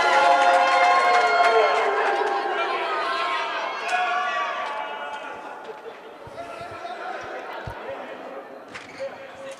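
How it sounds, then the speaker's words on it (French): Spectators in a gymnasium applaud and cheer volleyball players, with a loud, dense crowd roar that swells at first and then slowly fades into chatter and scattered claps, heard under a commentator's voice. "le public présent au gymnase Pandit-Saadé qui applaudit les joueurs"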